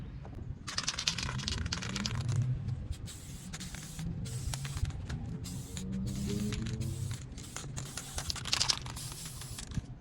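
Spray paint hisses in repeated short bursts onto an Audi rear brake caliper, close and fairly quiet, with faint clicks and rattles of the can between passes.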